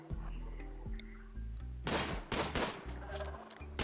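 Video game gunfire in a wooden-base battle: a quick volley of loud, close shots bursting in over a steady musical drone, following a quieter stretch.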